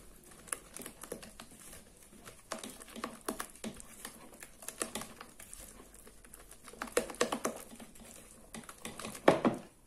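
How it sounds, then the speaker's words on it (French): A spoon or spatula stirs beaten egg whites into melted chocolate for a chocolate mousse, producing a close run of soft, quick tapping and scraping patter that speeds up near the end. "je vais mélanger normalement pour assouplir le chocolat"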